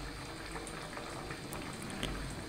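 A pot of curry with new potatoes, cauliflower and egg bubbles at a steady boil, a continuous soft burble with small pops, and no voices.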